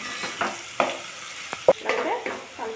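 Chopped onion frying in a pan as ginger and turmeric go in, with a spoon scraping and stirring through a steady sizzle and several sharp clinks and scrapes.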